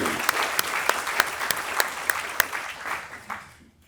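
An audience at opening remarks for an event in Galveston applauds, a dense burst of clapping that holds steady with a few sharp near claps, then fades out.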